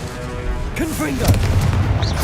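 A Confringo explosive spell blast from Hogwarts Legacy, a booming burst rumbling low and loud through the middle of the clip amid other game effects, with shouted spell-casting voices over it.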